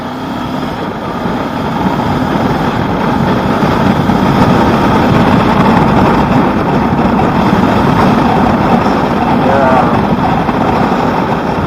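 Steady wind roar and engine drone from a 2019 Honda CB500X ridden without its windshield, loud and constant throughout, with a low rumbling buffeting underneath.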